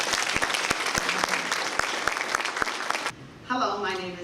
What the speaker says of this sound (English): A round of applause for the 5 presenters.